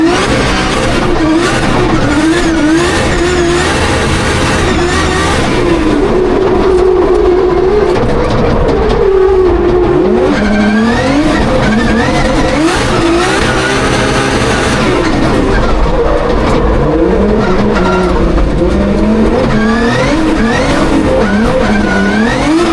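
Drift car at Goodwood Motor Circuit, a loud continuous engine roar rising and falling in pitch as it revs through slides, with tyre noise, heard up close without pause.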